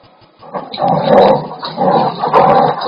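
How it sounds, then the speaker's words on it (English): Australian cattle dog mix growling at home, a low rumbling growl in several swelling bursts, close and fairly loud, with no one speaking. "I hear your dog."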